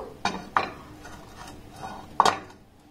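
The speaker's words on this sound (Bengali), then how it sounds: "এবার এই কেক টিনটাকে এর মধ্যে বসিয়ে দেব" A metal cake tin set down onto a stand inside a kadai over a gas flame, giving three sharp metallic clanks with quieter scraping between them, close and clear with no talk.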